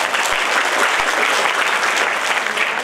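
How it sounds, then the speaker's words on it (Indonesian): Steady, dense clapping from an audience at an Islamic boarding school graduation ceremony in Makassar, honoring a graduating student; continuous and fairly loud with no voices over it. "Boleh kita berikan tepuk tangan?"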